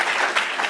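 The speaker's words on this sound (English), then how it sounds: "That deserves a clap." Brief burst of audience clapping in a church session hall, dense and fairly loud with no talk over it.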